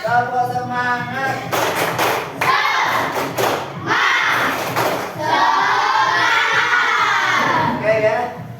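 Schoolchildren in a morning class doing a rhythmic spirit clap, sharp bursts of group clapping mixed with loud chanted voices in a lively, echoing room.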